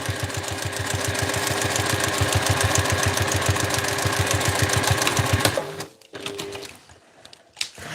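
A sewing machine runs steadily for about five and a half seconds, stitching fabric for a Tony Tony Chopper backpack with a rapid, even mechanical chatter, then stops abruptly and leaves quieter handling noises.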